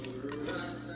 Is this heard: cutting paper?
no